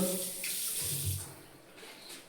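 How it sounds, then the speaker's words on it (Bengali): Water runs steadily from a hotel suite washroom tap with hot and cold outlets, a close, continuous gushing splash into the sink with no speech. "এই পার দিয়ে গরম জল, এই পার দিয়ে ঠান্ডা জল"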